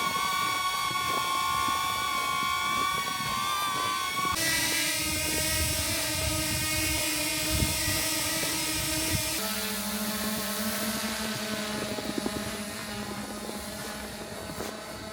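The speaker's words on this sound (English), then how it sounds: "including the actual sound and noise coming from each of these drones" Three small DJI drones, the Mini 4 Pro, the Neo and the Flip, hover in turn, each a steady high-pitched propeller whine and buzz, with the tone shifting lower at each change of drone.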